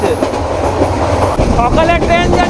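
Heard right at the doorway of a moving Chittagong-to-Dhaka intercity passenger train: a loud, unbroken rumble and clatter of wheels over rail joints, with wavering metallic squeals rising near the end, and someone talking briefly.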